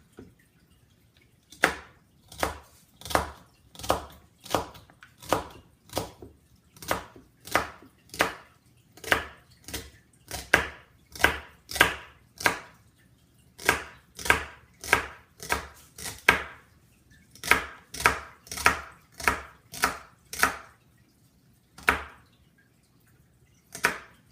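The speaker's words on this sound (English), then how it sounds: "now I'm going to cut this up into little bite-sized pieces" A knife chops celery into bite-sized pieces on a cutting board while making jambalaya. The sharp, evenly spaced chops come close and clear, around thirty strikes in a regular rhythm with brief pauses, and no talk.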